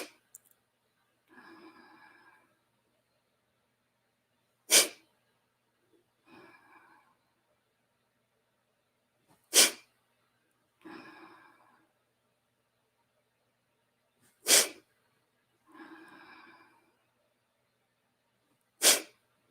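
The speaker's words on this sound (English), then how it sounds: "it's a forced exhale also out the nose" Forceful nasal exhalations in a Kundalini breathing practice: four sharp, loud snorting bursts spaced evenly apart, each with softer breathy inhales between, close up and without talk.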